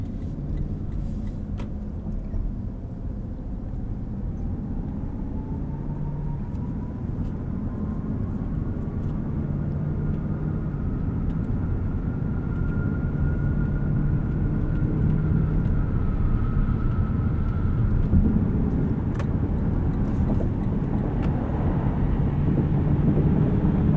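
Cabin sound of a 2021 Lexus LC 500 Convertible with its V8 cruising on the highway at about 70 mph, top up: a steady loud low rumble of road and wind noise, with a faint engine tone rising slightly and no talk.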